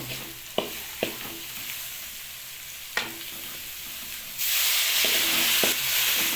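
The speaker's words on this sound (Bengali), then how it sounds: "হালকা জল দিয়ে মশলাটাকে একটু নেড়ে নিতে হবে।" Spice paste loosened with a little water, including ground cumin, is stirred in a pan for a chicken liver dish: a steady sizzle with several sharp spoon clacks against the pan, the frying surging louder near the end, no voices.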